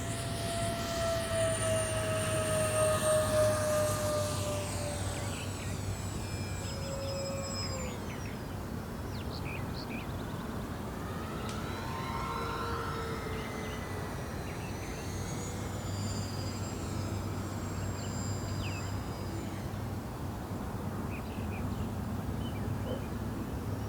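E-Flite Twin Otter 1.4m twin-motor electric RC model plane flying overhead, its whining motors sweeping in pitch as it passes, at moderate distance over steady background noise.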